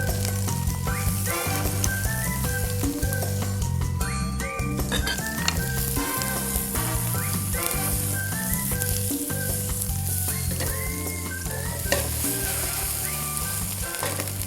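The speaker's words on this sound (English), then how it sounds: "Now, it's time for the salmon in the pan." Salmon frying in a pan for curried salmon: a loud, dense, crackling sizzle that runs steadily without a break, up close and alone, with a low tonal hum underneath.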